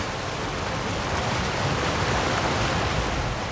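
A waterfall in The Elder Scrolls Online rushes in a loud, steady, broadband wash of falling water heard up close, with no voices.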